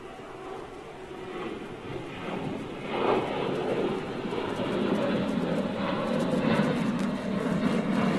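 A TUI airliner flies over near Gatwick with a distant jet roar that swells and broadens as it passes. Wind and outdoor background noise sit under it.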